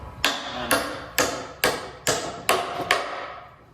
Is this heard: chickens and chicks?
no